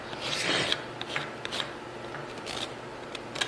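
A goat's hoof is trimmed, the sides and the hoof wall worked over with short rasping, rubbing strokes and a few sharp snips, close up and fairly quiet, with no one speaking.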